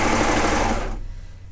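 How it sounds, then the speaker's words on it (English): A sewing machine stitching the short ends of a folded T-shirt neck band: a loud, close, rapid mechanical whirr that runs steadily and then stops abruptly partway through, leaving a quieter tail. "we're going to sew the short ends"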